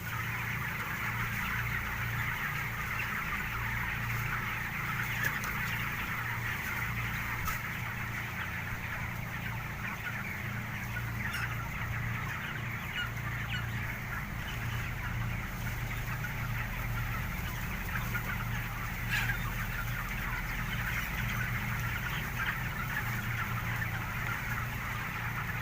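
Young farm chickens clucking softly and continuously in a coop, a faint low chatter over steady background hum, no talk.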